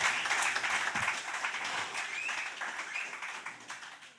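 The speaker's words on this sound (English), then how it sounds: "Another round of applause for the comrades." An audience at a winter school lecture applauding after a talk, dense clapping that starts strong and slowly tapers off over a few seconds.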